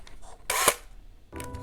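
A Horizon 202 panoramic film camera fires its shutter once, a loud, sharp mechanical clack with a whirring sweep, then a softer second click a moment later in a quiet room.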